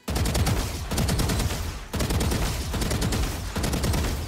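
Sustained automatic gunfire from spraying at practice bots in a shooter game, loud and continuous, broken by a brief pause near the two-second mark before the next burst.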